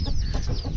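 Chickens clucking in a backyard coop with pigeons nearby, as the chicks are let out; short, close clucks with no talk.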